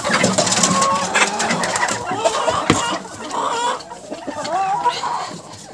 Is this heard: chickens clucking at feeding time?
yes